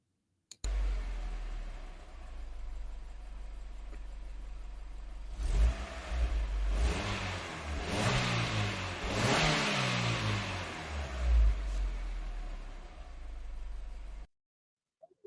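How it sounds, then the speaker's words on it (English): A car engine revving repeatedly, swelling and falling with some clicking and rattling as if breaking down, steady engine hum underneath, close and fairly loud, no speech. "Sounds like our car's breaking down there. I don't know if that's the internet or the car engine."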